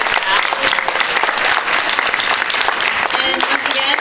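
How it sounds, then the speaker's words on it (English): Sustained round of applause from an audience at a closing event, dense steady clapping filling the whole stretch with a murmur of crowd noise underneath. "can we just have another round of applause for all those who worked to get this back?"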